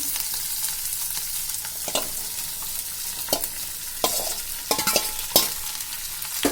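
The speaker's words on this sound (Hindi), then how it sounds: "1 या 2 मिनट के लिए फ्राई करूंगी" Chilli mushrooms fry in a pan, a steady sizzle broken by several sharp scraping stirs of a spatula, close and fairly loud with no talking.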